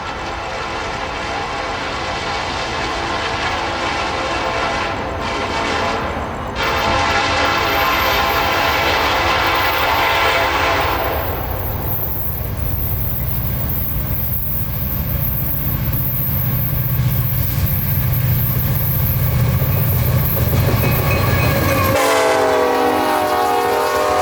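A Canadian National freight train passes close by the Dade City Depot in Florida, its sustained rolling rumble and wheel noise filling the scene, with a long horn blast ringing out over the steady roar and the passage continuing throughout.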